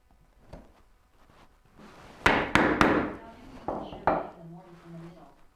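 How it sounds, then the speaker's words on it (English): Several sharp, loud wooden mallet blows on a chisel cutting a mortise for a turning bow saw, clustered in irregular strikes with knocking between, while someone talks quietly nearby. "please tell me if I'm breaking your guys' ears with the mallet of doom"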